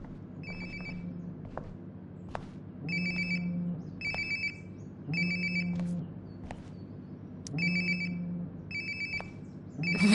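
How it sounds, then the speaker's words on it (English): A phone rings nearby in the video game Life is Strange: Before the Storm, repeated electronic ringtone bursts over a low droning background, without speech. "Sounds like my phone is definitely nearby."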